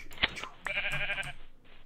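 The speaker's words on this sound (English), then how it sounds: "And the sheep have grew back their wool." Minecraft sheep give a sharp bleat from a video game, followed by a longer wavering bleat, both fairly close and clear over faint background game sounds.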